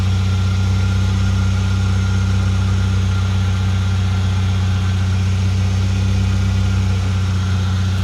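A lowered Toyota Yaris engine runs after repairs, a loud, steady idle with a deep hum that stays constant throughout at close range.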